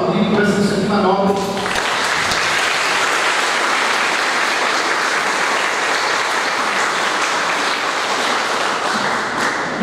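Sustained applause from an audience at a municipal council chamber seminar on autism awareness, a dense steady wash of clapping filling the room for nearly ten seconds after a brief moment of voices at the start.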